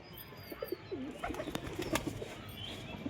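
Desi pigeons on a rooftop give faint, low, rolling coos in short bursts, with a few sharp ticks and light rustles in the quiet background.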